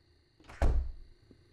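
A door swings shut in 7 Days to Die, a single solid thunk with a short wooden rattle, close by over quiet ambient hum.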